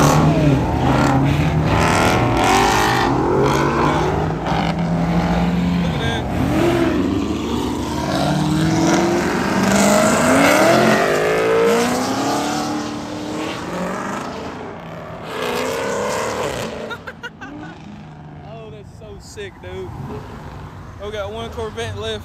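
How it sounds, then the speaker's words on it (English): A Dodge Demon pulls out of a car meetup and accelerates, its engine roaring loud and close with rising revs before fading, while voices and crowd noise carry on throughout. "We got the demon pulling out."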